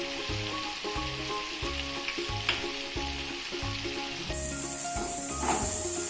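Onions and tomatoes with a little salt sauté in a pan, a steady frying sizzle with rhythmic stirring scrapes and a background hum, running without talk.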